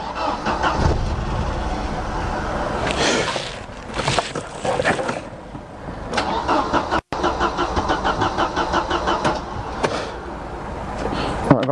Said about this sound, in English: I've asked my assistant to try starting the car for me.